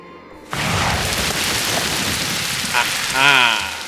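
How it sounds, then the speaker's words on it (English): Rain in Totally Accurate Battle Simulator starts abruptly and settles into a steady, dense hiss of falling drops, with a short tonal sweep rising near the end. "Let's see if we can finish it off with a bit of rain."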